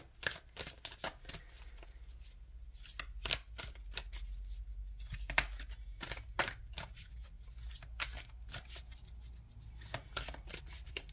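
Tarot cards being shuffled by hand, with repeated sharp riffling bursts and soft slaps in an irregular rhythm, close up over quiet room background.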